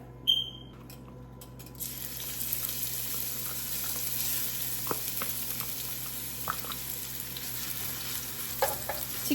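Ginger garlic paste sizzles and crackles steadily in hot oil, a constant frying hiss with scattered pops and a few faint stirring clinks.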